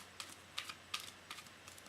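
Tarot cards are shuffled by hand, giving five or six soft, papery clicking bursts spaced unevenly at close range, faint and with no talking.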